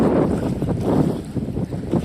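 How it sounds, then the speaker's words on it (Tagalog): Strong wind buffets the microphone in heavy, rumbling gusts, loud and continuous, with a faint rushing of rough sea water beneath, on the coast of Davao del Norte, Philippines. "malakas alon, malakas din yung hangin"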